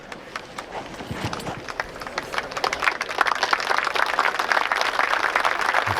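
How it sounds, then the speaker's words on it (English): Golf gallery at the Masters Tournament applauding after a solid approach shot, a swelling patter of distant clapping that builds and thickens over several seconds, heard from afar without commentary. "You can tell by the applause that it's not very close, and it was a solid shot."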